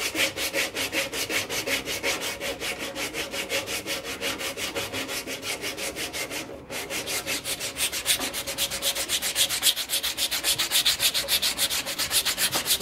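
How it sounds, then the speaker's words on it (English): Sandpaper rubs against a turned oak burl bowl in a continuous, rhythmic scratchy hiss with fast regular strokes, close and steady throughout, with no talk. "So I've now got this bowl sanded to 320 grit"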